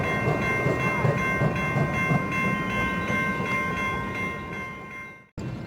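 A restored U2 MTS trolley departs on rails with a steady rolling rumble and a high electric whine, heard fairly close before the sound cuts off abruptly near the end.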